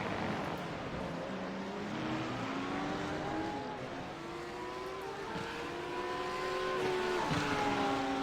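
GT3 race cars, one of them a Lamborghini, roar around Circuit of the Americas through the esses. Engines rise and fall in pitch as the cars run close together, a continuous loud drone with overlapping revving tones and no voices.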